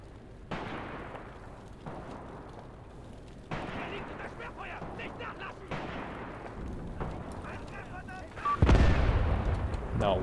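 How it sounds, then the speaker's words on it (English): Artillery fires a smoke-screen salvo in the World War II tactics game Graviteam Tactics during a forest fight at a bridgehead. Several heavy booming shots land at uneven intervals over a rumbling battle background, and the loudest and closest blast comes near the end. "That must be the next salvo of the smoke screen?"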